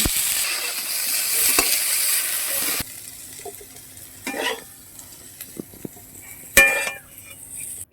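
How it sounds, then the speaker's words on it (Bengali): Cauliflower florets frying in a pan with salt and turmeric, a bright loud sizzle at first, then a quieter simmer broken by several sharp scrapes and clinks of a utensil against the pan. "কপিটা আমি ভেজে নিচ্ছি"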